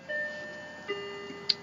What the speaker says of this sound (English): Hey, there goes my clock.